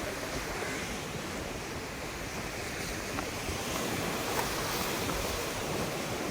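Ocean surf rolls continuously onto the shore near a temple on the coast near Mangaluru, a steady broadband wash of breaking waves with wind noise on the microphone and no voices.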